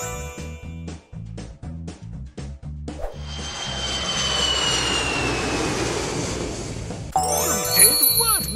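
A cartoon jet aircraft roars past, a rising whooshing engine rush that swells over several seconds after a run of short bouncy musical notes, ending with bright tinkling chimes.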